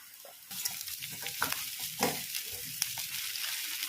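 Pumpkin pieces drop into a hot pan of turmeric-seasoned tempering, setting off a steady sizzle with scraping stirs and a few sharp clinks of a spoon against the pan, close and fairly loud, with no voices.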